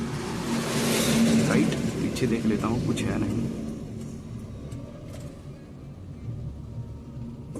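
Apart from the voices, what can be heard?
car engine while reversing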